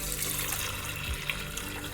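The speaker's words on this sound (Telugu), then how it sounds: "ఇప్పుడు వచ్చేసి మనకి బఠానీ మునిగేదాకా వాటర్ వేసుకుందాం." Water pours steadily into a pressure cooker over green peas seasoned with turmeric and salt, a continuous close splashing, filling sound with no talk.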